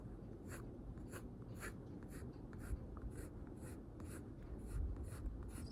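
Pencil sketching on paper in a quiet ASMR setting: soft, close strokes scratch in a steady rhythm of short bursts, roughly two per second, over a low, faint background hum.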